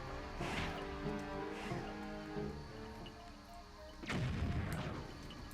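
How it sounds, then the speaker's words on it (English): Bombs exploding in Wind Waker HD, three booming blasts with reverberating tails, two close together early and a heavier one near the end, under a background of game music. "What happens if I throw a bomb to it?"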